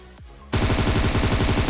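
Gunfire in the mobile battle royale game PUBG Mobile, a sudden loud burst of rapid automatic shots in quick regular succession after a short quieter lead-in.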